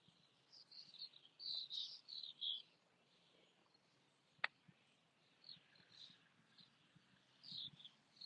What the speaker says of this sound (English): Enjoy those bird noises, some evening insects sounds.